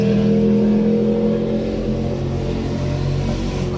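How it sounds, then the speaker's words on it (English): A loud car engine roars steadily nearby, sounding like a vehicle passing on a road by a bayfront park in Sarasota, Florida, with continuous low rumble and no speech. "the car is very loud."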